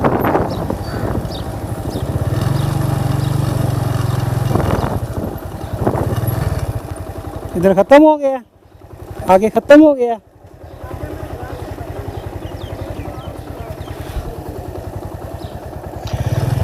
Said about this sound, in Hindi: मैं अपनी बाइक लेके किले के अंदर आ गया हूँ।